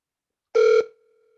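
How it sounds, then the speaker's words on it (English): A VoIP desk phone rings alongside a mobile device, a single short electronic ring tone that is clear and close, followed by a faint fading tail. "my desk phone is ringing as well as my mobile device."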